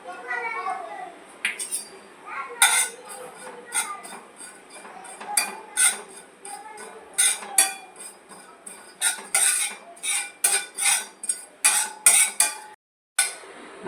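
Poppy seeds being dry-roasted and stirred in a pan for steamed modak filling, giving repeated short scraping and clinking strokes of a spatula against the metal, close and fairly steady in rhythm.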